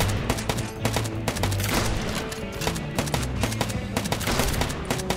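Sniper rifle gunfire in the LifeAfter video game: loud, close cracks in rapid, dense succession over a busy background, with no talking.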